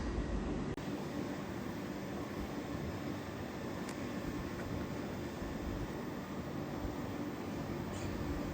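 A Rodalies commuter train at L'Hospitalet station gives a continuous low rumble with steady broadband rail noise, fairly close and unchanging throughout, with no talk.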